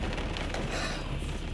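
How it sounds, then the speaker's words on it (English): Rain and wind roar during a thunderstorm, a dense, loud, gusting wash of noise that lasts only a moment, with no voices. "Very windy, very rainy"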